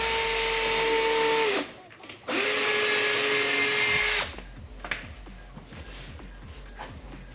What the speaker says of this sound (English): right now we're drilling into the rivet nuts to take it off, take the bumper bracket from your existing front bumper